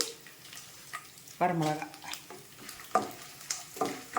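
Garlic, dried red chillies and curry leaves crackle and fry in hot oil for tamarind rice tempering, with stirring clinks and sizzle bursts under a voice talking over it.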